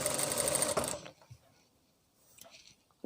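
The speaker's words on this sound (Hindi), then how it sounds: "मशीन को उठाते हुए हमें यहाँ से सिलाई स्टार्ट करनी है" A sewing machine stitches fabric for palazzo pants, running in one steady loud burst for about a second before stopping, followed by faint handling noises and a brief click near the end.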